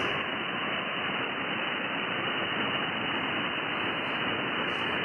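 Steady, dense hiss of HF amateur radio band static on an Icom receiver filling the whole clip, constant and loud with no pauses or voices.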